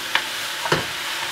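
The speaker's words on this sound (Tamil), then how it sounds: "நல்லா நெருப்பை குறைச்சி விட்டுட்டு தான் மிக்ஸ் பண்ண தொடங்கணும்." Meat being stirred in a hot pan for a mixed devil dish of kingfish, mutton, chicken and prawn, with two short scraping stirs and faint sizzling underneath.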